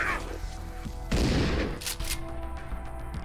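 Burst of gunfire in the zombie survival game Dead Age, a dense loud volley in the middle of the clip amid game sound and low music, with a couple of shorter shots after.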